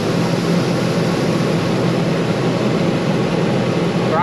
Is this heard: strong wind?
no